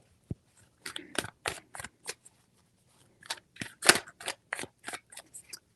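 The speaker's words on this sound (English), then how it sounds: "Three shuffles for Scorpio." Tarot cards being shuffled by hand in a series of short crisp riffling bursts with brief pauses between them, close and fairly quiet, with no talking.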